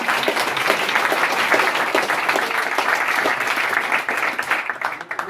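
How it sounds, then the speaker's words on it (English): At a football team banquet, the audience claps for a young player in a sustained round of applause with distinct individual claps, loud and steady before tapering off in the final second. "So please give Anthony McAvoy a round of applause."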